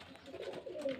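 Pigeons kept for sale coo softly in a short, low, rounded burst, faint and close.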